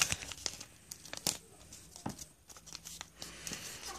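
Origami paper being folded in half, giving faint, sparse crinkles and soft taps scattered over a few seconds.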